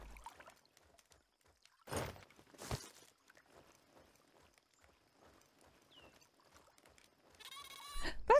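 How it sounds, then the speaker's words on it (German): A goat bleats in the Viking survival game ASKA, a short distant call amid quiet ambient rustling and footsteps, with brief bursts of noise and a brighter tonal sound near the end. "Das klang gerade wie eine Ziege."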